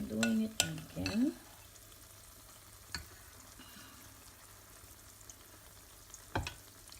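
Banana fritters sizzle steadily in hot oil, a soft continuous frying hiss close by, broken by a few utensil clanks near the start and again later.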